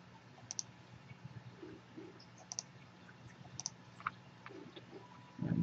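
Quick computer mouse clicks sound close and faint in a quiet room, a few crisp ticks grouped together as a triple click, alone without talk.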